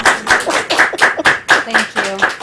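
Brief burst of clapping from a small club meeting audience, close and lively, with a few tonal voice-like sounds mixed in near the end.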